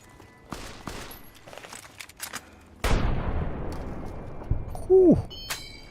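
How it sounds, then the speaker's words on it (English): Gunfire in Fallout, the video game, opens with scattered, distant shots, then a loud burst near the three-second mark that fades into a lingering rumble, followed by a short tonal whine and further scattered noises. "They're shooting, I hear them."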